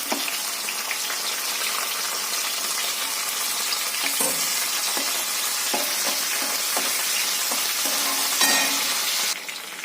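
Onions and green chilies hit hot oil with cumin seeds, giving a steady loud sizzle and frying hiss throughout, with occasional stirring clatters and a final surge near the end.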